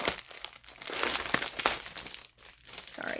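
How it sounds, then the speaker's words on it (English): Crinkling and crackling from handling packaging around 14-count cross-stitch fabric in the Spring Woods colorway, loud, close and nearly continuous for about three seconds, with sharp rustling peaks and no talking. "Sorry about the crinkling."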